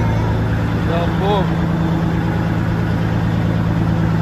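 A Freightliner FLD truck engine idles steadily at close range, a low continuous rumble under a person talking throughout.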